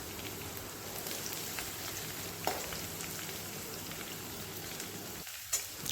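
Curry leaves and ginger-garlic paste fry in a tempering of cumin and mustard seeds, making a soft, steady crackling sizzle with a couple of faint pops.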